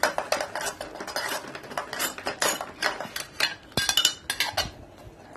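A spoon stirs curry in a metal pot after garam masala is added, then the lid goes on: close, busy scraping and clinking strokes in uneven bursts, ending with sharper metallic clanks, no talking.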